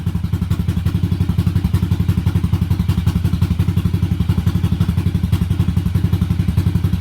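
1986 Yamaha XV750 V-twin motorcycle engine idling on a single-carburetor manifold at its first run, a loud, close, steady low thumping pulse with regular clattery beats throughout and no talk.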